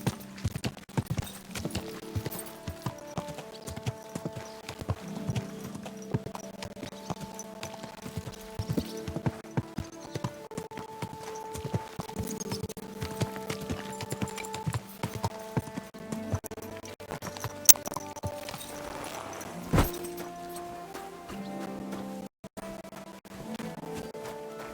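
Horse hooves clip-clop at a steady walking pace in the medieval game Kingdom Come: Deliverance II, moderately close and fairly quiet over soft background music and ambience, with an occasional snort or whinny.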